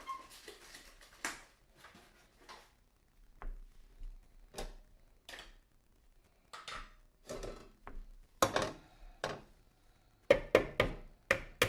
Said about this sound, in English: we need to mix our eggs